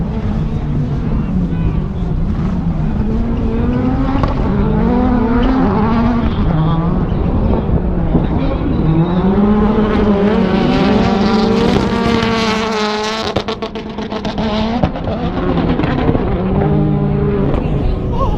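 A loud drifting car's engine revs and whines continuously with shifting pitch, mixed with wind buffeting, as people talk over it at a Nitro Circus World Tour event.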